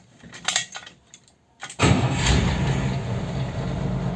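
A few clicks and jingles, then a Willys Rural engine, after a valve adjustment, cranks and catches, settling into a quiet, steady idle heard from inside the vehicle.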